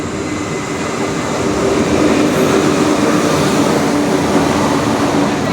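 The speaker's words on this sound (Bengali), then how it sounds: "তো ফাইনালি আমাদের ট্রেন চলে এসছে।" A train rumbles steadily nearby with a constant low mechanical roar and faint rail noise, growing slightly louder midway as it pulls into a platform.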